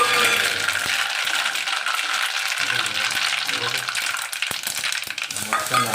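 Mustard seeds, sesame, fennel, cumin and asafoetida frying in hot oil, a loud continuous close sizzle with crackling pops throughout, someone talking over it.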